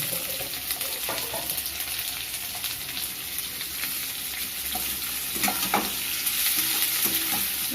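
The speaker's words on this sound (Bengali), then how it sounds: "ভালো করে ভাজতে হবে।" Bombay duck fish curry cooking in a pan with onion and green chillies, a steady close sizzle and fry with stirring scrapes and faint watery sounds, no talking.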